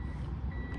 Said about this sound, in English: sorry for the beeping, there was a UPS truck